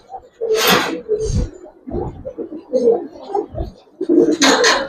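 Giribaz pigeons coo in a low, throaty burble, several soft rolling calls close by with short pauses between them, amid light rustling.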